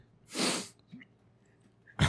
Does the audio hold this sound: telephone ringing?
no